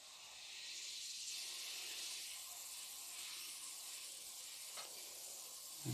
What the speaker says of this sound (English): I've got my compressor set to about 20 psi, which I find is just about right for this airbrush.